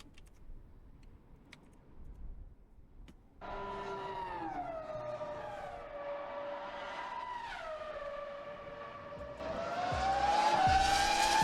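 Formula 1 V10 engine at high revs, a loud sustained screaming wail that sweeps up and down in pitch through gear changes, rising louder near the end after a quieter opening.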